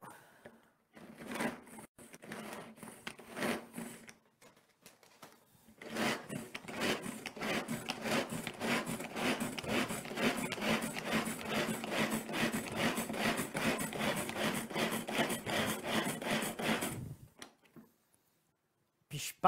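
A pull-string vegetable chopper whirs and rattles as its cord is yanked, with a couple of short bursts early on, then a longer run of quick, repeated rasping pulls heard close up, a little faint.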